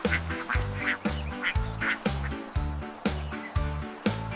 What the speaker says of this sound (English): 4 little colorful ducks splashing happily.